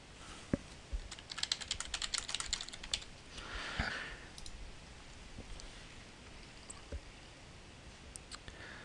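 Typing on a computer keyboard: a quick burst of rapid key clicks at first, then scattered single taps and clicks, close and faint, with no voices.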